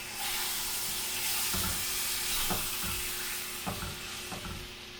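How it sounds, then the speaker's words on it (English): A dab of butter sizzles and hisses steadily in a hot pan where a Beyond Meat burger is cooking, with a few soft clicks and scrapes. "I'm gonna now add a dab of butter."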